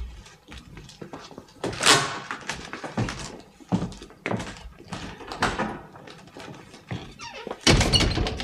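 Heavy wooden thumps and knocks sound through a period house, repeated irregularly with scraping and handling in between, fairly close and loud, like a front door being worked and shut.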